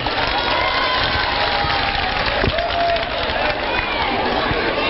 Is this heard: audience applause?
yes